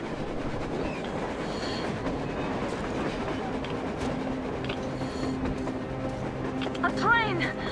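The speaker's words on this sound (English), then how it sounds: "A damn train on the surface!" A train rumbles across the surface in the video game Metro Exodus, a continuous clattering roll with a few metallic squeals near the end while characters talk over it.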